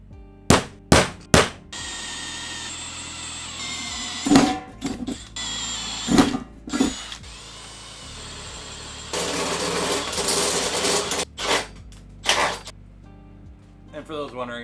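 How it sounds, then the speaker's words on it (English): A power drill bores holes in the top plate of an FLSUN S1 3D printer, in several short whirring bursts with clicks and clatter between them, plus one longer steady run near the end. "So we'll transfer those holes, drill those, drill that hole,"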